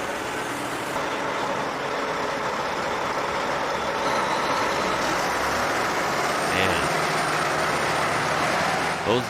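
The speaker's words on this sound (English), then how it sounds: "Those are loud diesels. They sound nice." Heavy transport trucks hauling a 475-tonne transformer through narrow streets, a loud, continuous diesel engine drone with rumbling traffic, fairly near and without talk.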